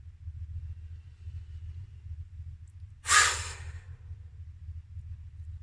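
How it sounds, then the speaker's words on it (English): One forceful exhale to the side during a breathing exercise, a single loud breath burst rising over a steady low rumble and quickly fading. "And then breathing out to the side."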